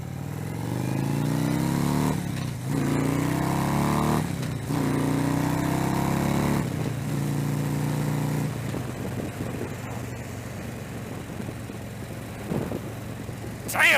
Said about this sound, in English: Damn, this bike is fast.